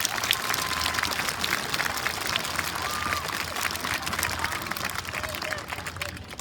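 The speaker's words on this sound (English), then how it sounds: "Can we please give them a round of applause?" A school assembly audience applauds at a Veteran's Day event, sustained dense clapping from a large crowd in a hall, holding steady before tapering slightly at the end.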